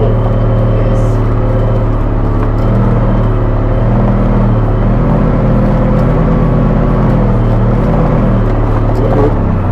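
A car engine drones and revs steadily while driving over a sand dune, a loud continuous hum with subtle surges of throttle and no talk over it.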